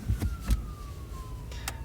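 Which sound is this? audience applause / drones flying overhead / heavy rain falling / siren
siren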